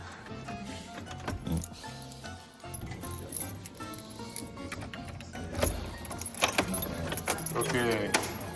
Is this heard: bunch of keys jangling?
yes